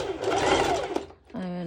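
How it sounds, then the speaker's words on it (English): A sewing machine runs a straight stitch at its longest stitch length on swimsuit fabric. The motor whirs steadily and close by for about a second, pauses briefly, then starts again while a voice speaks over it. "it's a straight stitch with the highest stitch length"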